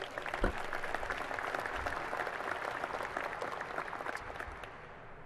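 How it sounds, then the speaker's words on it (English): A large audience at a hotel dedication and grand opening ceremony gives a steady round of applause, a dense, even wash of clapping that lasts several seconds before tapering off near the end. "Please give them a round of applause as well."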